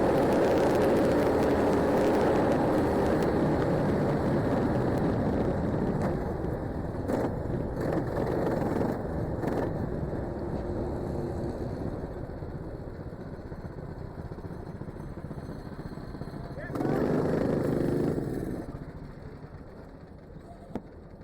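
A racing kart's high-revving engine drones loudly and steadily at a British 24-hour kart race, easing off as it enters the pit lane, then surging briefly before fading.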